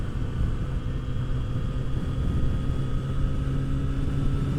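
Steady, close engine rumble from a Kawasaki Z900 RS motorcycle while riding, a continuous low drone with wind noise holding even loudness throughout, no voices.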